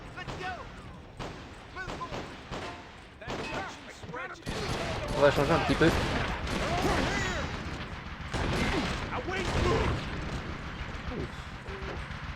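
Heavy booming cannon fire and explosions from a video game's cannon weapon, a dense run of loud blasts and crashes that swells after the first few seconds, with someone speaking over the barrage.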